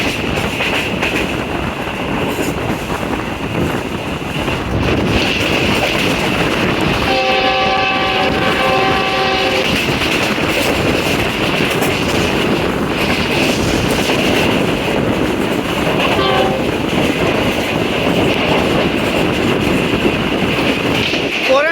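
A Green Line express train rumbles steadily along the rails with continuous loud running noise, and a horn sounds in sustained tones partway through, under faint background voices.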